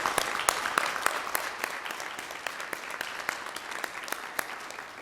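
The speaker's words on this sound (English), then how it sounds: "Please join me in a round of applause as we celebrate these school communities." A meeting audience gives a modest round of applause for school communities: fairly quiet, scattered individual claps that stay distinct and slowly thin out over several seconds.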